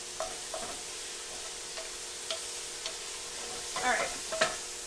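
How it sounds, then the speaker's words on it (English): Garlic shrimp sizzling in a pan while being stirred, with a steady frying hiss and a few sharp scrapes and clacks of the utensil, close up and with no talking. "Stir this around."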